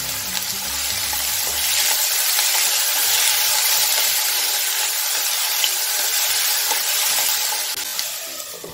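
Loud, continuous sizzle of eggplant pieces frying in hot oil in a kadhai, with a low clatter early on and steady crackling throughout.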